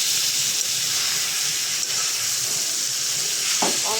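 Vegetable bhaji frying in a pan gives a steady, close, bright hiss and sizzle throughout, with a brief scrape or stir near the end and no talking.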